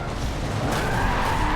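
Tires skid and squeal under hard braking in a Forza racing game, a loud continuous screech layered over the engine, with no talking.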